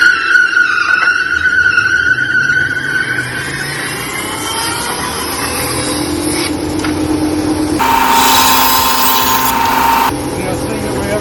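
A power tool cuts slots into wooden sledgehammer handles, a loud continuous grinding and whine with rising squealing tones that grow harsher toward the end, running steadily for about ten seconds.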